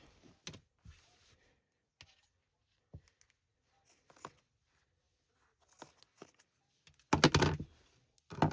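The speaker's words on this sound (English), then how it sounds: "I'm just cutting a straight line all the way up." Scissors snipping through a t-shirt to cut it into strips, a series of sparse, close, crisp cuts with quiet gaps, ending in a louder burst of rustling fabric and cutting.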